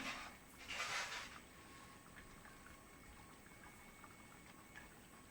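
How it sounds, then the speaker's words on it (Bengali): Meat simmers in a pot of water on a home stove, a soft bubbling boil that is quiet and steady, with a brief rush of bubbling near the start and no voices. "মাংসটা ভালো ফুটছে।"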